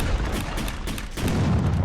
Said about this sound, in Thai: อ่าบอสโดนระเบิด